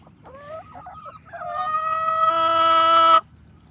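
Hens being fed strawberries on a U-Pick farm, a close, busy run of clucks and squawks building into a loud, sustained crowing-like call that cuts off abruptly, with no talking.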